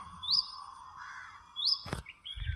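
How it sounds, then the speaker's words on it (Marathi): A black bird hopping about a garden gives two short, high chirps about a second apart, the second followed by a sharp clatter, over a steady low background hum. "हा पक्षी जातोय वर उड्या मारत काळा कलरचा."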